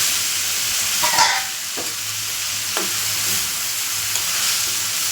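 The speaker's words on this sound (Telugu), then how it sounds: "ఒకసారి కలుపుకుందాం." Cucumber curry with tomatoes sizzling in a pan, a loud continuous fry hiss with a few spatula scrapes and taps while it is stirred, and no voices.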